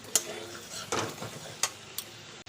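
A spoon stirring drumstick pieces into a spiced fish curry in a pan, with a few sharp clinks and scrapes spaced irregularly over soft sizzling, close and moderately loud.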